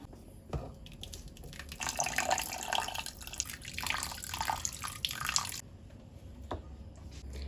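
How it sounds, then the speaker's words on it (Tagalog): Cooked sago pours steadily through a strainer into a pot for several seconds, a splashing rush that stops abruptly, with faint clinks before and after. "Tapos, sasalain na po natin to."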